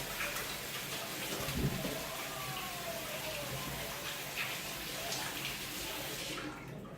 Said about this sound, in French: On va se rincer les mains.